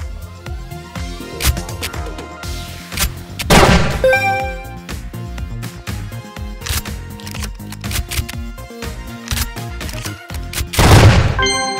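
A Beretta 687 EELL Diamond Pigeon shotgun in CrossFire, the W10y skin version, fires several loud booming shots mixed with metallic clicks and shell-loading clacks, a dense run of gun handling sounds with no talk.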